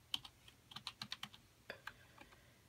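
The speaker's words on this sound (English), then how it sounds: "It's hard typing with one hand." One-handed typing on a computer keyboard, with about a dozen crisp, irregular key clicks close by, arriving in small bursts with short pauses in a quiet room.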